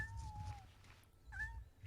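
A small cat meows twice in the video game Shenmue, each a short, faint, high cry separated by a brief pause, over a low background hum.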